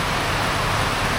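Heavy rain falls steadily near a small fishing boat, making a dense, even hiss with no breaks for the whole short stretch.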